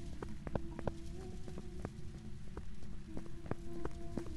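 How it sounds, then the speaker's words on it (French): Ghost footsteps in the horror video game Phasmophobia: a steady series of soft, fairly quick thuds over a constant low background hum, faint and distant. "vous écoutez les bruits de pas pour voir s'il est rapide"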